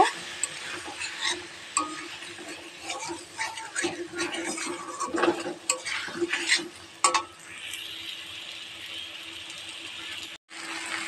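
Egg and taro curry being stirred in a pan: repeated scraping and clinking of a spoon against the pot in an uneven rhythm, with a faint hum behind, easing off toward the end.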